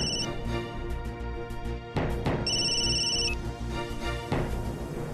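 Electronic telephone ringtone in a Marathi drama serial scene, repeating melodic ring phrases with short gaps, moderately loud over a soft musical background and no talk.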